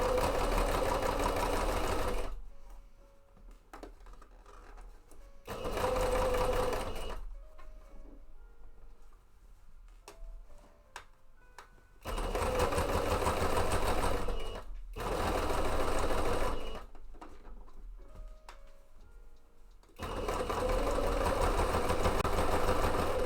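A sewing machine stitching a cape mock-up runs in loud, steady bursts of close mechanical whirring, stopping and restarting several times with quieter pauses between runs.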